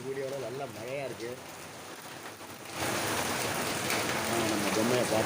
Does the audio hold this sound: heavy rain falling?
yes